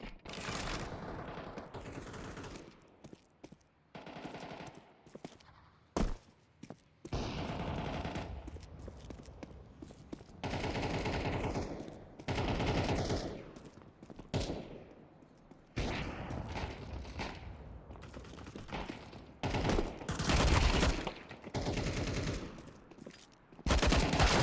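Video game gunfire in a gun game mode against bots, with bursts of rapid automatic fire and single shots separated by short pauses, loud and sharp throughout.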